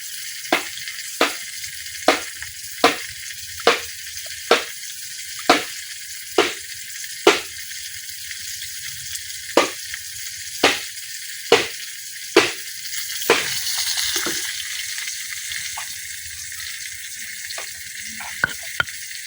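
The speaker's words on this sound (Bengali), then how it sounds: "মাছগুলা উল্টায় পাল্টায় খুব ভালোভাবে ভাজা নিছি, এখন উঠাই নিতেছি।" Koi fish fry in hot oil with a steady low sizzle, punctuated by about a dozen sharp, evenly spaced clacks of a utensil against the pan, then a louder burst of sizzling as the fish are turned.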